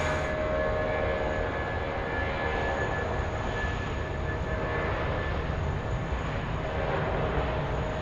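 Jetstar Airbus A320 at Sydney Airport at night, a steady broadband jet roar with a faint high whine, continuous and moderately distant throughout.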